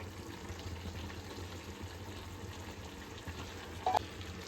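Chicken frying in a pan with tomatoes just added, Kashmiri chili powder already in, a steady close hiss of sizzling with a small clink near the end.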